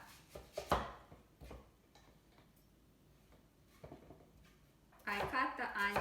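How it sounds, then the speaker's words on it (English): A knife chops an onion on a cutting board with a few sharp, close knocks, heard under a person talking. "I cut the onion lengthwise, and then I'm cutting it across."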